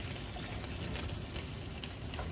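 A pan of chicken mappas curry sizzles steadily as it is stirred, giving a close, even frying hiss with soft scraping and no voices.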